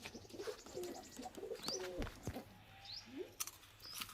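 Bangladeshi high-flying pigeons in a loft, with soft low coos and scattered bird calls around them, set against a steady background hum.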